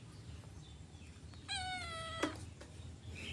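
A solid black cat gives one clear, drawn-out meow at close range over a quiet room hum, followed by a brief sharp sound and softer background noise.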